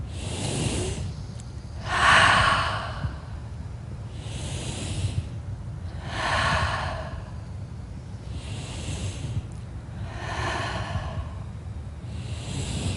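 Deep, slow breathing during a guided breathing exercise, four long whooshing breaths spaced evenly apart, close and clear over a quiet background.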